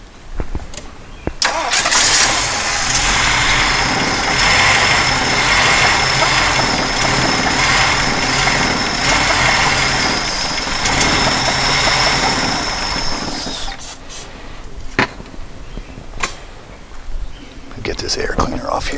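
A 1977 Jeep CJ-5 that sat for ten years, its carburetor bowls likely dry, cranks and catches, then roars into a loud, steady run for about twelve seconds before settling to a rougher idle with clicks and brief voices.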